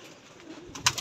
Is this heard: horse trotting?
no